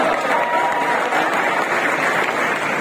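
Sustained applause from a concert audience at a classical music festival ghazal performance, dense steady clapping filling the whole stretch without pause.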